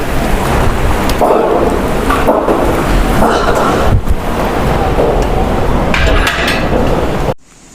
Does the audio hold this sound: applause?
no